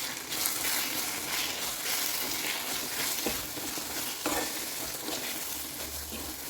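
Tomato pickle sizzling steadily in a pan as Kashmiri chili powder and asafoetida are stirred in. Continuous frying crackle runs under intermittent scraping strokes.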